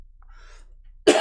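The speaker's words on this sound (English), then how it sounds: "sorry for the cough." A single short, abrupt cough right at the end after near-silence, close to the microphone.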